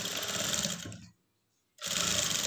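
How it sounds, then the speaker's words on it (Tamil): A sewing machine runs fast and close while stitching blouse lining, then stops for a moment of near silence before the rapid whirring starts again. "அதுக்கப்புறம் இதில் வச்சு நீங்கள் தையல் போட ஆரம்பிங்க"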